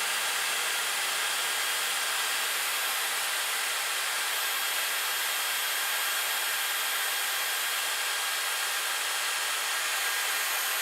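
A Dyson Airwrap hair styler runs steadily while curling hair, giving a constant close airy whoosh with a high whine and no change in level throughout.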